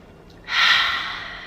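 A single deep clearing breath, a strong airy inhale rising suddenly and then easing off, close and alone after a quiet start.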